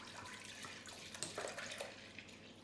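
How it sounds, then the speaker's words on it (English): Milk pouring into a medium to large saucepan, a soft continuous liquid trickle and splash with a few brighter drips, close and steady, with no talking. "we pour the milk"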